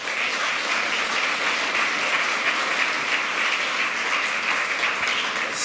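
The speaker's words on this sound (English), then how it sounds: "welcome them with a warm applause" A large conference audience at the 28c3 hacker congress welcomes speakers with steady, dense applause, loud and even throughout with no talking over it.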